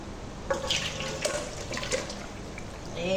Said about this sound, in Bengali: মাংসটা রান্না হয়ে গেছে আর এখন ঢেলে ফেলবো